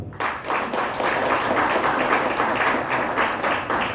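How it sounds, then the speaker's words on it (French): A large audience claps steadily at a union's 30th anniversary celebration, a sustained wash of many hands at even loudness, slight rhythmic pulses in the clapping, no speech. "m'a demandé un tonnerre d'applaudissements pour la direction générale"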